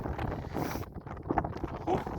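Wind buffets the microphone in uneven rumbling gusts, with brief thumps and knocks mixed in.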